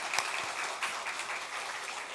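Broad, steady applause fills a church gathering during a Sunday afternoon service, honoring teachers; dense crowd clapping holds at an even level for the whole stretch with a few sharper claps near the start.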